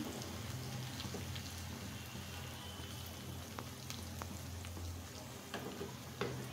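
Dried red chillies sizzling in hot oil for a tempering, a steady soft crackle with scattered sharper pops, faint and close.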